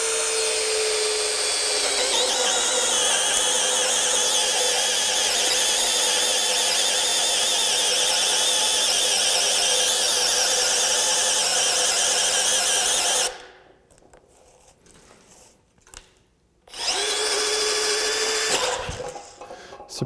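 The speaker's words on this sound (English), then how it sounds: "Let's just drill another hole." A brand-new 18-volt Metabo HPT cordless drill bores into wood with a loud, steady high-pitched whine lasting about thirteen seconds, cutting out, then starting again briefly near the end.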